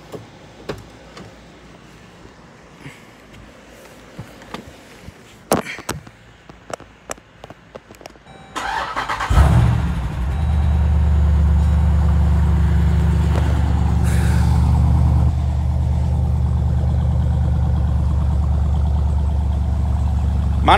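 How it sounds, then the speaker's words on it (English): A 2014 SRT Grand Cherokee SUV fitted with a Momentum cold air intake fires up from cold with a loud roar after some light clicks, then settles into a steady, close, rumbling idle that continues without speech. "let's listen to a cold start right quick."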